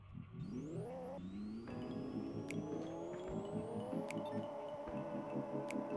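A car's engine revs up and climbs steadily in Pixel Car Racer during a burnout, holding a loud whining drone with occasional sharp clicks.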